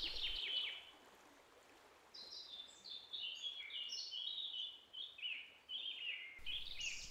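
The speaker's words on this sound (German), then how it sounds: "Viele Vögel" Many birds sing and chirp in chorus outdoors, bright overlapping calls layered over a soft steady stream or water rush, fairly close and continuous throughout.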